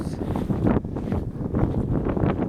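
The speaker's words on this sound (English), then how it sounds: "Bit of wind now, chaps. Bit of wind. I do apologise." Wind blows hard across the microphone on an outdoor walk at a viewpoint near Bodmin, a loud, continuous rumbling buffet that surges and dips.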